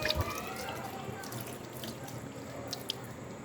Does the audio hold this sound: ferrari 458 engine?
no